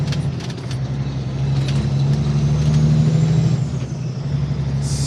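A service truck rolls along an Alberta highway corridor, its engine a steady loud drone with a brief hiss of air near the end.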